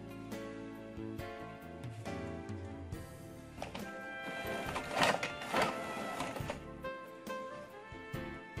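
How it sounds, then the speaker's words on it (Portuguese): A printer runs freely and prints, giving a stream of stepped, motor-like tones with a couple of louder mechanical bursts midway, steady and fairly close with no talking. "A impressora vai trabalhar livremente dessa forma."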